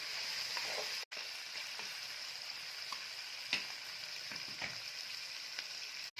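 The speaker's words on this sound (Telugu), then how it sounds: "ఐదు నిమిషాలు బాగా నూనెలో బాగా తిప్పుకోండి" Crabs fry in oil in a pan with a faint, even sizzling hiss. Light scrapes of stirring come now and then, and there are two very short dropouts.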